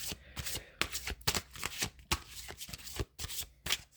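Oracle cards are shuffled and drawn in a quick run of crisp riffling bursts and slaps, close and distinct, with brief gaps between strokes.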